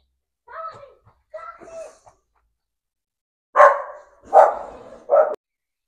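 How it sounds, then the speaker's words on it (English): Neighbours' dogs barking nearby, two softer barks followed by three louder, closer barks in quick succession, set against near silence. "hopefully we won't be interrupted by the dogs or too loud barking of our neighbours' dogs"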